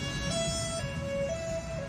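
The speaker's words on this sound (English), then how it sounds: "a police car with its siren blaring" A police car siren blares at close range, a wailing two-tone pattern that switches pitch over steady road and engine rumble.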